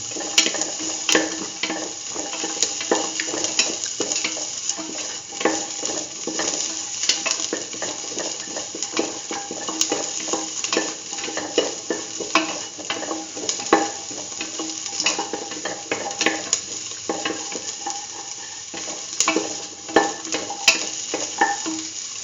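Onions and shallots fry in a pan with salt, a continuous crackling sizzle broken by frequent stirring scrapes and clinks of a utensil, close and fairly loud, without speech.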